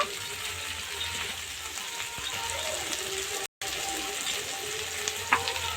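Chopped onion frying in oil with ginger and garlic for a pangas fish dish, a steady close sizzle with faint utensil taps and one brief dropout partway through.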